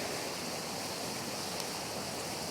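Fast stream water pouring close by, a steady full rushing wash that holds evenly throughout.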